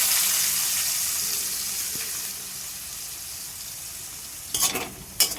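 Onions fry in a pan for kopta, a steady hiss of sizzling oil that slowly fades, then two short bursts of stirring and scraping near the end; no one speaks.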